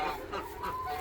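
A hen gives a couple of soft, throaty clucks in a backyard coop, close and brief, with faint background noise around it.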